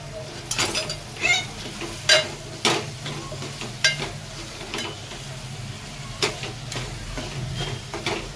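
Salted, pre-boiled drumstick pods tipped into a frying pan and stirred for a dry sabzi, with a steady low sizzle under repeated sharp scrapes and knocks of the spoon against the pan.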